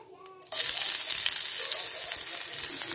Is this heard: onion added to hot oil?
yes